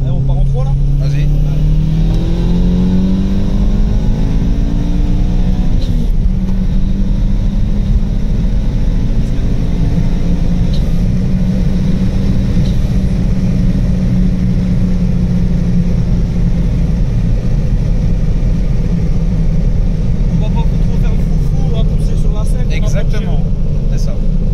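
A tuned 1.8T car making 500 hp pulls hard from third gear, its engine droning loud and rising in pitch, then dipping at a shift before climbing again, under occasional talk inside the cabin.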